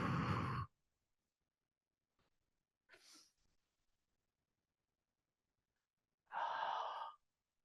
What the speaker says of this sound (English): I feel like the best sound to a yoga teacher is hearing your breath.